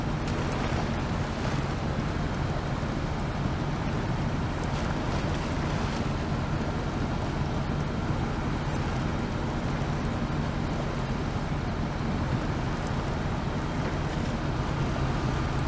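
A truck in SnowRunner fords a river, giving a steady, unbroken wash of engine rumble mixed with rushing, splashing water that stays loud and even from start to finish.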